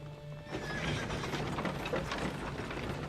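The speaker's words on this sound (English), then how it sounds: "Horses?" Horses neigh and whinny with clip-clopping hooves as riders approach, a steady wash of movement rising after a brief quiet start and continuing throughout.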